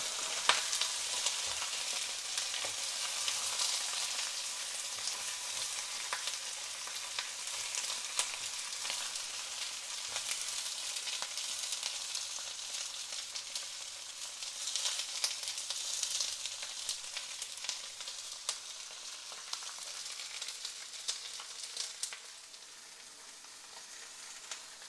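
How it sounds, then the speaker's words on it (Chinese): Fish heads fry with ginger in a wok, giving a continuous bright sizzle and crackle of hot oil with scattered pops, steady and close throughout. "當你爆香咗啲魚頭咧，你就可以落中火， 慢慢 慢慢煎下佢，又等啲姜汁出嚟啦"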